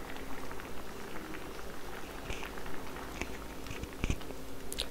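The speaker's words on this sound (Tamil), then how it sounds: "நல்லா சாம்பார் வந்து கொதித்து ரெடியாகி வந்திருக்கு" Onion sambar seasoned with homemade sambar powder bubbling in a pot, a steady soft simmering hiss with scattered small pops and bursts, fairly close, with no talk.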